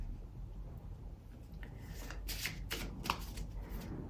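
Tarot cards being shuffled and flipped by hand, a run of soft papery riffles and flicks clustered in the second half, close and quiet over low room hum.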